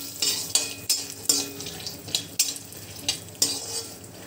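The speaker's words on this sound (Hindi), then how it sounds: "चलिए हमारी फली फ्राई हो गई है" Peanuts roast in a spoonful of oil in a pan, crackling steadily while a spoon scrapes and clinks against the metal in sharp, regular strokes, close and clear, with no voices.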